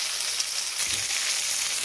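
Tomatoes added to a pan of frying onion with ground garlic, ginger and green chilli paste set off a loud, steady close-up hiss that thickens slightly as they hit the oil.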